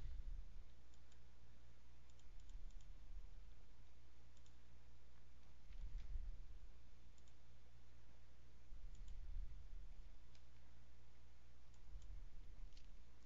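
Mouse clicks from working in Microsoft FrontPage while setting style formatting, a scattering of faint, sharp clicks spread across a quiet background with no talking.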